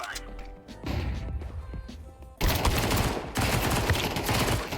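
A flashbang grenade goes off in a video game shooter during a terrorist attack round, a sudden loud crashing burst followed by sustained harsh noise amid game gunfire, with a voice speaking early on.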